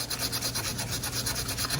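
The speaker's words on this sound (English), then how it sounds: "I've got a little bit of solder that will have to be cleaned up on here. So I'm sanding this down." Sterling silver hollow form being sanded by hand to clean off solder, a rapid rhythmic scratchy rubbing in steady even strokes, close and alone with no voices.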